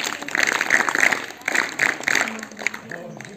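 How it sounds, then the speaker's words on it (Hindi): At a school assembly, a group claps in short rhythmic bursts, loud and close, with voices mixed in among the claps. "इसका जवाब सही है, इसके लिए 3 तालियां बजाएं।"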